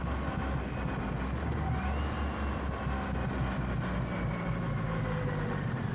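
A 2023 Triumph Rocket 3 GT motorcycle with mid controls burbles on the move, a soft, steady low engine rumble under wind and road noise, continuous for several seconds.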